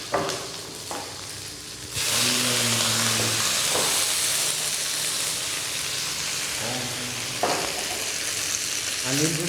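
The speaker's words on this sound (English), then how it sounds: "we'll just give it a quick stir" Ginger, green chilies and capsicum stirred in a hot pan, a loud steady sizzle that swells as the vegetables go in, with occasional scraping stirs and light clinks.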